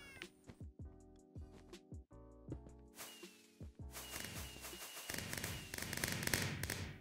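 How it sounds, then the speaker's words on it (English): Fireworks go off at an outdoor gender reveal party, a dense loud crackling burst that builds over the last few seconds, after a cat meows close by. "So many fireworks."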